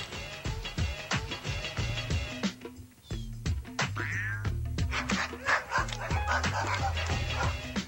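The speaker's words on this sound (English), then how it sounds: "There's a new mutt in town, and he's about to spot his territory." A dog barks and yips in quick, repeated bursts, close and loud, over a steady tonal backing.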